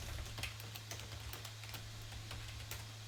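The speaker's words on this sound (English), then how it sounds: "we're going to type in jump" Quiet, rapid clicks of a computer keyboard being typed on, an uneven run of light key taps over a steady low hum, with no talking.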